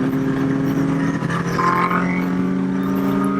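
A Kawasaki Z800 motorcycle engine is revved hard and rises in pitch as it accelerates. The loud, continuous roar stays close throughout.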